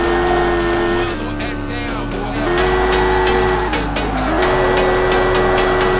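A car drifting in the Car Simulator 2 video game, its engine droning loudly at high revs with pitch shifts as gears change and the tires skid, steady and close throughout.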